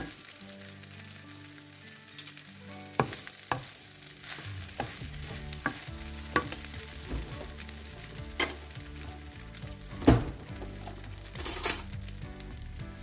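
Shrimp fried rice with kale and chili sauce stir-fried in a pan, a steady soft sizzle broken by repeated sharp scrapes and clinks of a spatula against metal, heard close with no talking.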